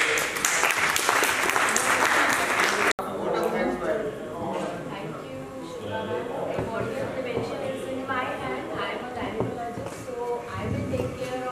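Brief loud clapping for a speaker at a medical conference in Pune, cut off abruptly after about three seconds and followed by someone talking over quieter room noise and shuffling.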